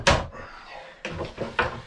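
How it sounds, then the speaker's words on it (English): Wooden clamps knocked loose from a freshly glued wooden panel, a sharp clack followed by softer rattles, then two more distinct knocks close by, on board a wooden boat. "Let's pop these clamps off."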